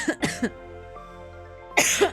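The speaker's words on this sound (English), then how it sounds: "I am so sorry for the coughing." Two quick coughs close to the microphone, a short quiet pause, then another harsh cough.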